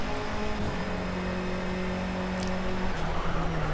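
Race car engine in the Project Cars racing game, a steady droning hum with slight pitch changes while pulling out of a slipstream, constant and fairly loud throughout with no talking.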